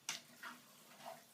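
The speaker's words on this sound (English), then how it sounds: "we're just frying up the meat and the onions" A pan of minced steak, lamb and pork frying with onions and garlic gives quiet sizzling, broken by three faint crackling bursts that fade into a low background fry.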